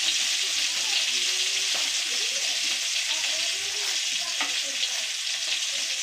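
A dried red chili sizzles in hot oil for a Kerala-style stew, producing a loud, dense, steady hiss close up with faint crackles and no talking.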